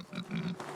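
A pig in the medieval farming game Medieval Dynasty gives a brief, low, nasal grunt up close, heard on its own without talk.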